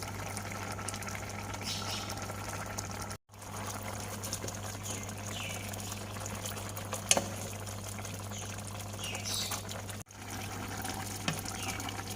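Thai curry of river snails with betel leaves and cha-om simmering in a pot, giving a faint, steady bubbling and watery churn over a constant low hum, with no voices.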